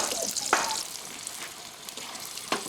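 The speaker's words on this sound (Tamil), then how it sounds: "இப்போ நம்ம அந்த வெங்காயங்களை கொஞ்சம் வறுத்து எடுத்துக்கலாம்" Sliced onions frying in coconut oil for biryani topping, a close, bright sizzle with a few sharp stirring scrapes, steady and moderately loud throughout.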